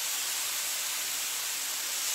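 Herby chicken tenders frying in a pan with a constant loud, bright sizzle and crackling spatter, close up, with no talk.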